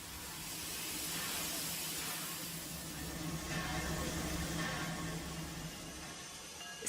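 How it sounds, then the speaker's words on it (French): Steady broadband hiss of century-old Baldwin steam locomotives on an old railway line, continuous and fairly close, with a faint low rumble beneath and no voices. "16 locomotives à vapeur se relaient 4 par 4."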